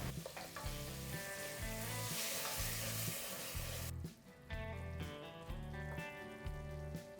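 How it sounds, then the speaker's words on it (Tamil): Curd is stirred into onion-tomato masala sizzling in a pan for paneer biryani, a loud continuous frying hiss with a steady rhythmic low thumping throughout. "நல்லா கலந்து விட்டுடலாம்"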